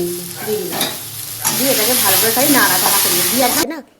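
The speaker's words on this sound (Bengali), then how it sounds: "এই আলু দিয়ে ডিম দিয়ে পেঁয়াজ দিয়ে সুন্দর করে নাড়াচাড়া করে ভাত ভাজাটা করলে" Rice being stirred and fried in a pan with potato, egg and onion, a steady broadband sizzle with scraping stir strokes and a voice talking over it before cutting off abruptly.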